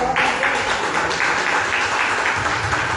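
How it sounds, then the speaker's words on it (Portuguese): A church congregation applauding, a steady wash of many hands clapping together throughout, fairly loud and sustained, with no talk heard. "Você pode aplaudir ao Senhor?"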